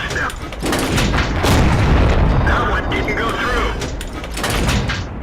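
Tank cannon shots in a tank combat video game boom heavily and close, one after another, with dense rumbling blasts and a voice talking over them throughout.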